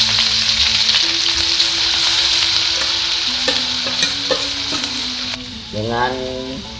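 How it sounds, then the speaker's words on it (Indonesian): Chopped Balinese spices (bumbu rajang) sizzle and fry in hot oil over medium heat, a steady close crackle with stirring clinks and scrapes of a utensil against the pan throughout. "Setelah minyak ini panas, kita masukkan bumbu rajang tadi."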